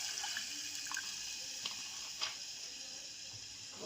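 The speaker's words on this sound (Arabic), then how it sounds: "هحط عليها نص كوبايه ميه" Water pours steadily into a pan of sautéed minced garlic for one-pot Egyptian koshari, a broad wet hiss with a few small splashes and clinks, fairly faint and alone.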